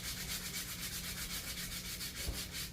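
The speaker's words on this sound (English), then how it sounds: "only thing I'm doing is taking my finger sander here and I'm just going" Finger sander smoothing wooden boards for a budget dollar-store craft; a close, continuous abrasive rasp with a fast rhythmic pulsing buzz, steady and loud with no talk.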